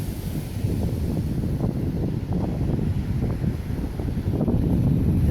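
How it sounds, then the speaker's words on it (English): Ocean waves break and roll on a sandy California beach at Fort Ord Dunes, a steady churning surf with wind buffeting the microphone, no voices. "The waves are really kicking up today."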